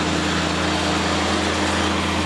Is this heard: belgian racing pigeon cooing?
no